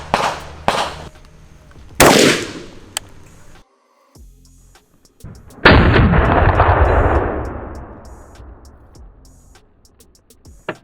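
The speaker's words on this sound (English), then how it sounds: "I'm gonna go ahead and shoot a 5-round group at 50 yards in the prone position" CZ Bren 2MS rifle in 7.62x39 fired outdoors on a range, several sharp, loud gunshots with long echoing decays, including two early cracks and a big booming shot that rolls away over several seconds.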